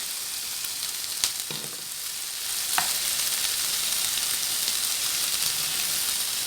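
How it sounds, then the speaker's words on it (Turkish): Zucchini and eggplant sautéing with onion in oil, a continuous close sizzle that swells louder partway through, broken by a couple of brief stirring clicks. "Kabak patlıcan da iyice şöyle soğanla birlikte kavruldu, sotelendi."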